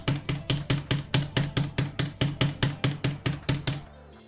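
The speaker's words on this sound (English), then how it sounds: "These are Razor's mechanical buttons, but they rival. They're almost exactly the same" Razer mechanical arcade buttons, close to stock Sanwa buttons, clacking under rapid presses, about fifteen sharp, loud, evenly spaced hits in a quick steady rhythm, close and alone.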